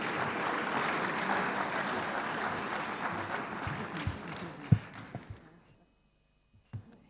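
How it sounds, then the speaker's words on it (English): Audience applause fills a main conference room at an African summit as a woman from a development bank walks to the stage; steady dense clapping for about five seconds, then thinning to a few scattered claps and near silence. "She likes to hear the applause when she's walking"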